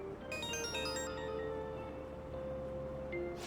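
A mobile phone ringtone rings in the video game Persona 5 Royal: a quiet, bright melodic tune that plays through once over a low steady background hum.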